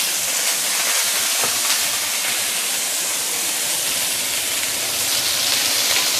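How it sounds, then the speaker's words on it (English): A loud, continuous sizzling hiss of potato pan frying in hot oil, bright and steady throughout with no voices. "let's start with pan frying our potato"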